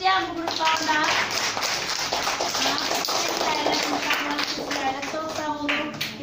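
Primary-school pupils clapping in a classroom for a group of classmates, a brisk continuous patter of small hands throughout, with a voice talking over the applause.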